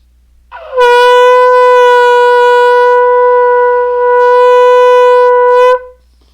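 A single long, loud shofar blast holds a steady, brassy tone for about five seconds before cutting off, with nothing else heard.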